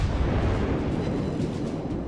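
Secondary guns of the battleship Massachusetts firing at an Atlanta cruiser in a naval video game, heard as a dense, continuous rumble of heavy booms blending into one loud, steady roar.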